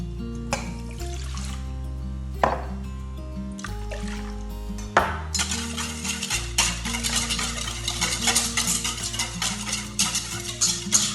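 Yeast and warm water being stirred together in a bowl for crusty bread dough, a steady scraping swirl with a brief pour, running over continuous background music with no talking.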